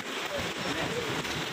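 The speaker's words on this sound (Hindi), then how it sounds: "बाहर बहुत तेज आंधी आ रही है, ओले गिर रहे हैं गाइस।" Hailstones fall during a strong windstorm in Noida, making a steady, dense outdoor patter and rush of noise that continues evenly without a break.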